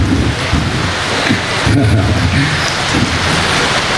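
Heavy rain pours down steadily during an outdoor wedding, a loud, dense, continuous hiss with low rumbling underneath, close and unbroken throughout.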